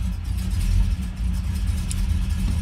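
A Ford Ranchero engine runs close by with a deep, rumbling note that swells as it revs, dips briefly, then settles back to a steady throaty drone.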